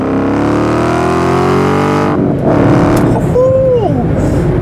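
A Ford Mustang GT 5.0 engine revs loud and close, its note climbing steadily, then drops into a rough, busy roar with other sounds over it.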